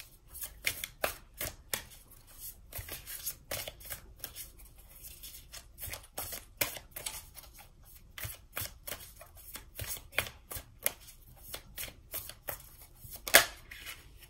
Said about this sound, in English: let's get 3 more cards